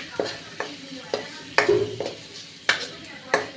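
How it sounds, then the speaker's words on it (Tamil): A spoon stirs masala with curry leaves in a frying pan, giving sharp scraping knocks at an uneven rhythm over a low sizzle. "கருவேப்பிலை போட்டு நம்ம நல்லா கிளறி விட்டுக்கலாம்"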